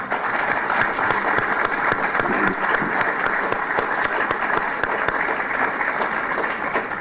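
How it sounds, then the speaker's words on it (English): Steady audience applause for local embassy staff at the opening of a US Embassy building, a dense, even wash of many clapping hands sustained throughout with no talk. "If you could join me in a big round of applause for them, that would be wonderful."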